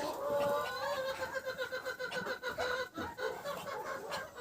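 Farmyard chickens clucking and a rooster watching over his hens: continuous close clucking and throaty calls in an irregular rhythm, with a few higher squawks and nobody talking.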